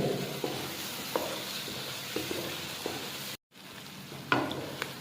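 Chicken liver fries in a pan with a quiet, steady sizzle, punctuated by regular clicks and scrapes of stirring and a brief cut of silence near the end.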